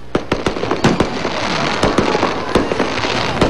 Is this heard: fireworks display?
yes